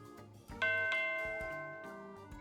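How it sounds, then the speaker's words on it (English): A cartoon temple bell rings in two quick struck tones that sustain and fade over a light busy background, with a softer knock near the end. "The bell you'd find in a temple."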